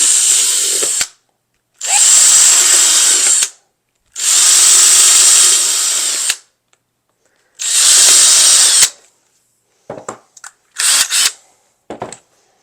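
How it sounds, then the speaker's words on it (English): A power drill bores eight holes through a plastic seed tray, in four long whirring bursts separated by short pauses, then a few brief clicks and short clattering handling noises; near and loud, with no talking. "I'm going to do 8 holes."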